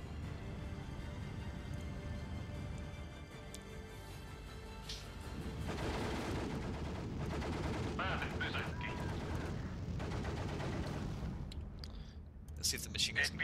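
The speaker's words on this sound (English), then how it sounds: "See if the machine guns can keep these guys at bay for long enough." Machine gun fire in the Steel Division II World War II campaign with German forces in Finland: rapid distant bursts and scattered gunshots rising from about six seconds onward over battlefield ambience.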